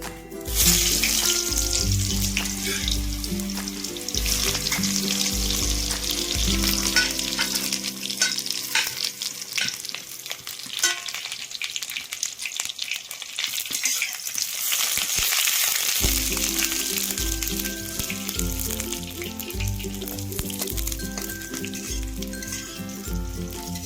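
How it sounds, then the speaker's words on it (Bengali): Eggplant pieces fry in mustard oil in a wok with a loud, continuous sizzle, punctuated by clinks and scraping of a spatula as they are stirred and turned, with a brief quieter lull midway. "এবারে আমি কড়াইতে সরষে তেল দিয়ে দিচ্ছি। প্রথমে আমি বেগুনটা ভেজে নেব।"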